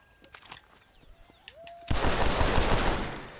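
Red Dead Redemption gunfire: after a quiet stretch of small clicks and a rising tone, a loud, close burst of rapid shots erupts and continues to the end.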